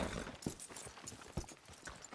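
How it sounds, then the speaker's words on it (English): A horse's hooves clip-clop in the video game Red Dead Redemption 2, a few soft, fairly faint hoof knocks spaced irregularly over a quiet background. "Are you gonna mount that new horse of yours or not?"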